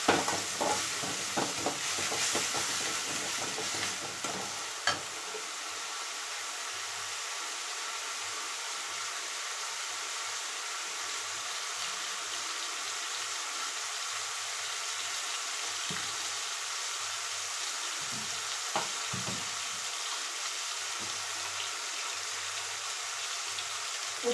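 Fenugreek and spinach greens cook in a pan with coriander, giving a steady broadband sizzle that hisses evenly throughout, with a few sharper scrapes and clatters of stirring near the start.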